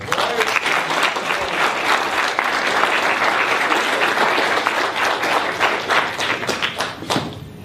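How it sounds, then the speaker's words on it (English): A large audience bursts into sustained, dense applause for Ward Churchill at a talk on police repression, clapping steadily throughout with a few scattered louder claps and no speech over it. "I want y'all to give a strong round of applause for our brother, Ward Churchill"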